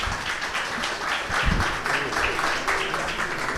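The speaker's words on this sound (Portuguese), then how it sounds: "Aplausos para ele." An audience at a book launch applauds with steady, dense clapping that holds at an even level from start to finish.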